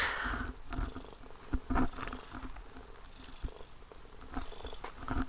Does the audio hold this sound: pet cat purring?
yes